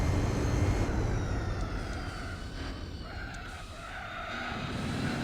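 Tires skid and scrub as a car understeers through a corner in Gran Turismo 4. A continuous broadband squeal over engine noise fades slightly, then swells again toward the end.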